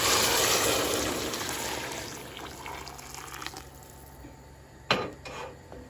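Boiled water poured into a cooking pot for Turkish köfte, a loud rushing pour that tapers off, followed by a brief clank of the pot near the end.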